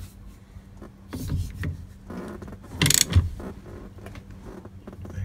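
Ratchet torque wrench tightening the steering wheel nut on a 1971 VW Beetle, heard as a quiet run of mechanical clicks and creaks with one sharper metallic burst midway.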